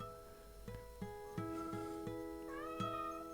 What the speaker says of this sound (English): My cat is coming in right now, and sometimes she brings me socks as a gift.